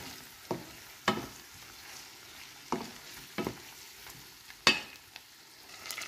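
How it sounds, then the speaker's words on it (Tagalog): Shrimp fry in a pan with a soft continuous sizzle, broken by half a dozen sharp scraping knocks as a utensil stirs them at irregular intervals, close by with no talk. "Haluin lang hanggang lutuin na natin ang shrimp."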